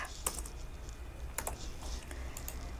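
Quick bursts of keystrokes on a computer keyboard, a handful of sharp clicks in short clusters over a quiet background hum, close and moderately faint with no one speaking.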